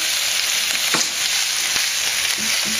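Kale sizzles steadily in hot oil, a close, bright crackle with a few soft stirring scrapes.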